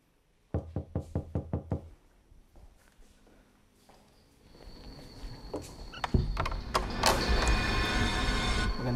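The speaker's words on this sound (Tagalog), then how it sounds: "May kumakatok lang sa pinto." Seven quick, evenly spaced knocks land close on a door at night. A louder, rumbling noise then builds and fills the rest of the clip.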